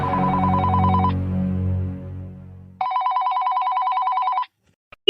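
A telephone rings through on an outgoing call. A low tone gives way to a bright, repeating electronic ring pattern that stops abruptly, with no one talking over it.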